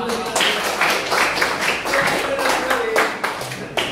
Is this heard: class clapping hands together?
yes